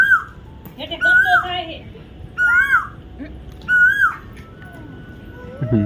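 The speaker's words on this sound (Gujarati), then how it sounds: "મસ્ત કોયલ બોલે" An Asian koel in a village near Botad calls three times in rising, whistled phrases spaced about a second and a half apart, fairly close and clear, with faint background noise and a brief low sound at the end.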